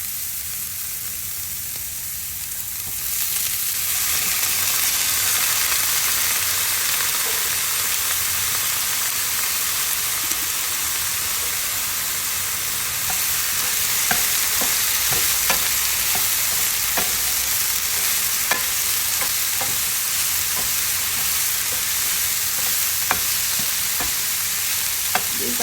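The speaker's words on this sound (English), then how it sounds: "Just gonna mix everything together." Cooked baby octopus stew being mixed in a hot pan: a steady sizzle swells after a quiet start, with scattered clicks and scrapes of a utensil against the pan, close and continuous.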